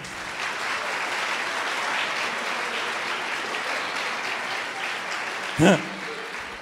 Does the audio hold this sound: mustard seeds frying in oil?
no